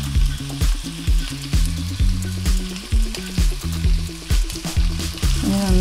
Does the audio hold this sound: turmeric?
yes